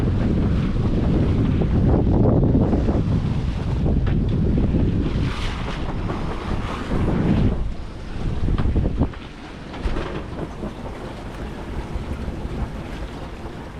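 Strong wind gusts buffet a heeling sailboat at sea under full sail, a loud continuous roar of wind and rushing water that swells and eases with each gust, with no voices.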